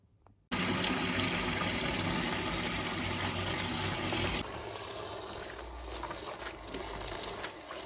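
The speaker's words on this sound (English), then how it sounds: "I just wanted to fill the sink up first and then just leave it to soak" Tap water gushes loudly into a kitchen sink to fill it for soaking a BMW K1300S motorcycle radiator, a steady broadband rush that starts abruptly and softens slightly as the basin fills.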